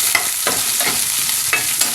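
Thinly sliced onions sizzle steadily in a hot pan while a utensil stirs them in repeated scraping strokes, close and loud, with no talking.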